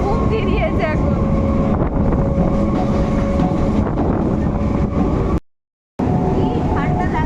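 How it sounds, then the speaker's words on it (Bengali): Wind rushes and buffets steadily over the rumble and rattle of a moving train during a ride, loud and continuous until a brief cut near the end. "কি ঠান্ডা লাগছে, হাওয়া মারছে"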